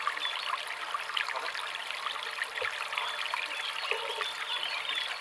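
Small cascade at a garden pond of roughly 10–12 square metres in Alsace, a steady close trickle and splash of falling water running evenly throughout with no talk.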